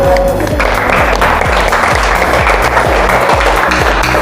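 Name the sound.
class applause for the groups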